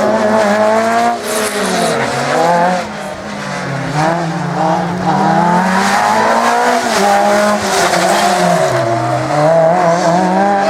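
A Citroën BX rally car engine revs loudly and continuously at a slalom event, pitch rising and falling as it accelerates and brakes through tight turns.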